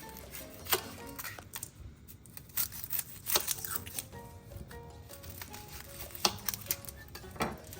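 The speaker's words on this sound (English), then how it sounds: "we're gonna slice some onion" Quiet, irregular knife cuts on a board, sharp taps and scrapes spaced unevenly as a sweet onion is sliced, close by.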